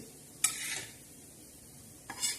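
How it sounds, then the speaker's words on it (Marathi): Green chilies frying in a little oil for chutney, a faint steady sizzle broken by two brief stirring scrapes near the start and end, no talking. "तशी हळूहळू मस्त अशी तळायची"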